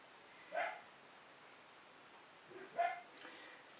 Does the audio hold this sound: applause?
no